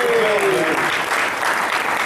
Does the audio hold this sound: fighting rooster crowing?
no